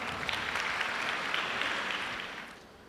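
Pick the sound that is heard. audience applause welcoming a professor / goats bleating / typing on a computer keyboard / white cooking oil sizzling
audience applause welcoming a professor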